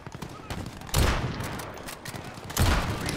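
Two loud bursts of gunfire in a video game crack out amid scattered smaller shots and background game noise, each blast followed by a short rumbling tail.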